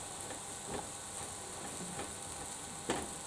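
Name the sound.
stirring fried rice in a frying pan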